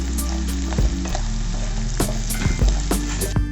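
Prawns sizzle loudly in a hot pan with salt, with a steady frying hiss throughout and a few clunking stirs of a spatula against the pan, no voices.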